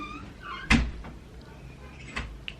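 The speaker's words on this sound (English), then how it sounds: "And then you're gonna close the door, no?" A household door or cupboard closing nearby with a sharp knock, followed by a second softer thud, while children and an adult talk over it.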